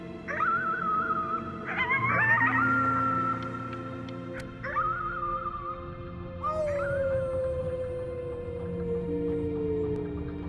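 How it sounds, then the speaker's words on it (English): A child howls at the moon at the top of their lungs in the game Before Your Eyes, drawn-out wavering cries rising and falling in several long phrases over a low ambient drone. "You howled at the moon at the top of your lungs."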